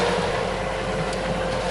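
A steady, droning boat engine runs without pause, a continuous low rumble with a broad hiss on top and no voices.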